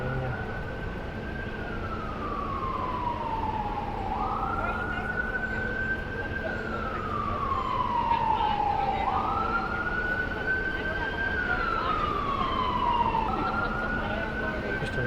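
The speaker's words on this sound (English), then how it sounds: "Just an ambulance." An ambulance siren in Washington, D.C. wails in steady rising and falling sweeps, repeating about every four seconds, loud and continuous over faint road noise.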